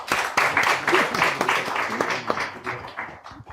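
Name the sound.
audience applause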